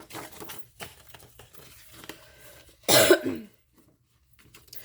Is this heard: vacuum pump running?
no